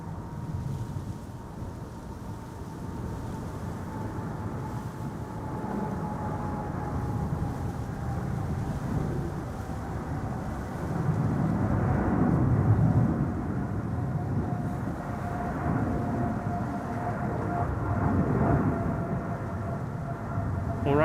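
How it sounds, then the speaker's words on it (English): An Emirates wide-body airliner taking off at Amsterdam Schiphol on a windy day, a long rumbling engine roar with a whining tone that swells and stays loud as it climbs away, with no talking. "wide-bodied is taking off from center. Ah! Emirates flight 146."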